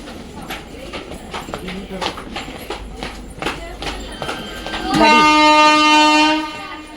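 A train pulls into a station with a steady clatter of wheels over the rails, then a loud, sustained horn blast near the end. Voices can be heard in the background.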